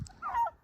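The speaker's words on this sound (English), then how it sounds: "we got a bunch of turkeys here" Pastured turkeys on a farm give short honking gobble calls, a brief close burst followed by a second call starting as the first fades.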